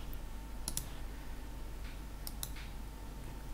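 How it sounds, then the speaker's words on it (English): Computer mouse double clicks while working in Marvelous Designer: two crisp close pairs of quick clicks, one early and one later, over a quiet low hum with no talk. "double click"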